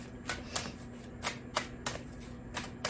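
Tarot cards handled and shuffled up close, with quiet regular flicks and taps of card edges at about even intervals over a low steady background hum.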